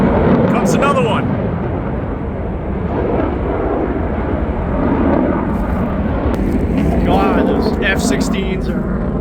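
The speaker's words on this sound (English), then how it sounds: "F-16s are deafening." An F-16 fighter jet passes overhead with a loud, sustained, roaring rumble that fills the whole clip while people talk over it.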